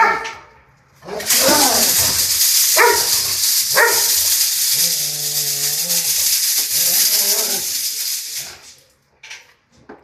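A large guard dog barks several times, loud and close, with a drawn-out whining growl between barks, all over a harsh rushing hiss, with voices of people nearby.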